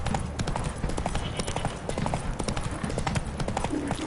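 A horse trots in The Witcher 3, its hooves clip-clopping in a quick, steady rhythm on the ground, close and continuous over a low ambient background.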